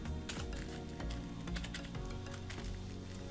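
Quick clicking keystrokes on a computer keyboard, a rapid irregular patter of taps heard alone and fairly faint.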